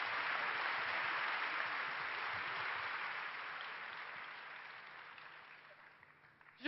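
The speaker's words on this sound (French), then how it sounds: "Applaudissons-les parce que c'était vraiment formidable." An audience at a congress plenary session gives sustained applause, a dense, even roar of clapping from a large hall that slowly tapers off.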